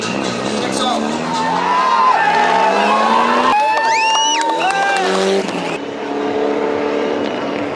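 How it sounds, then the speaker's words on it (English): A rally car taking off at the start of a Safari Rally round in Kenya, its engine revving hard with rising and falling pitch amid crowd noise, loud and close, with a commentator talking over it. "And the first car of Alistair Kavanagh, coordinated by Salim Haji, takes off"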